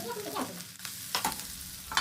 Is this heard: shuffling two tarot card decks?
no